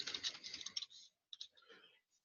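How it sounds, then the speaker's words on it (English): Names are typed on a computer keyboard as a quick, faint run of soft key clicks, followed by a pause and a few more scattered taps. "Now we can go ahead and we can start typing in names here"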